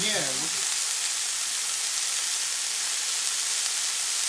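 Chorizo fries in a hot pan with a steady, loud, close sizzle that holds without a break, and a voice speaks briefly at the very start.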